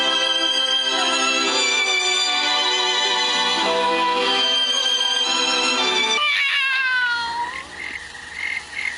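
A loud, drawn-out cat meow with wavering pitch, followed by a shorter, higher mew as the sound trails off.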